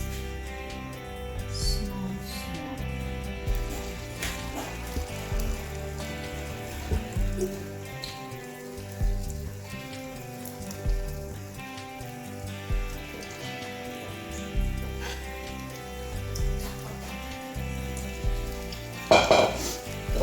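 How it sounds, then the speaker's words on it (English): Steady sizzling of plantain frying in hot oil in a frying pan, with occasional clinks and scrapes of the pan and utensil over the crackle. "Pour this into a frying pan, but make sure the oil is hot enough for frying."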